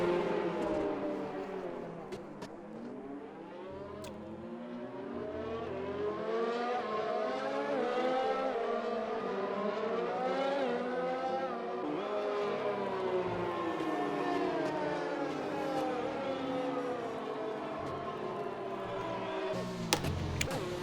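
Formula 1 race cars at the French Grand Prix, engines screaming and whining with rising and falling pitch, steady and loud throughout, with a commentator talking over them.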